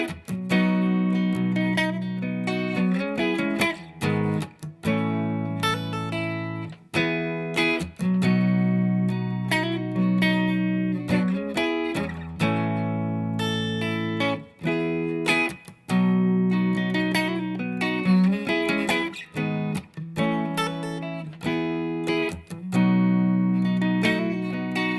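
Electric guitar plays the verse of a song, mixing strummed chords with picked high strings in a continuous, clean, close performance with no voices.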